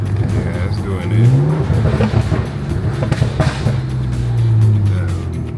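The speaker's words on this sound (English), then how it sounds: "The backfire is critical though." BMW 335i with a check engine light on, engine revving up and down loudly at close range with rising and falling tones and sharp pops, while people talk over it.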